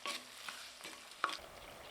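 Quiet sizzling of onion, garlic and tomato sautéing in a pan for a garlic kuzhambu, with a few soft scrapes and stirs of a utensil.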